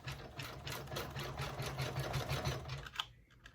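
Embroidery machine stitching a design onto soft white promo vinyl, a steady rapid mechanical clatter with a regular needle rhythm, close and continuous before slowing near the end.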